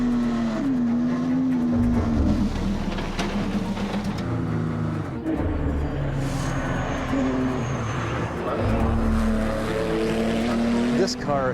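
A high-technology race car laps a track, its engine holding a loud, close, continuous drone that shifts pitch as it accelerates and changes gear.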